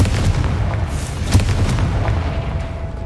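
Confringo fire spell going off in Hogwarts Legacy, a deep booming blast over a dense rumbling game soundscape, with one sharper burst standing out midway.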